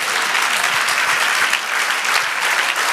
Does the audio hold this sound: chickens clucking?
no